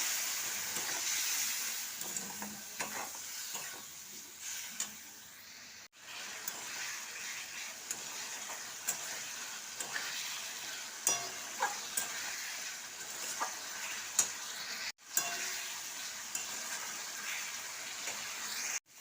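Potatoes and spices sautéing and being stirred in a pan for aloo saralputi tel jhal, a steady soft sizzle with scraping stirring sounds, a few sharp clicks and brief pauses throughout.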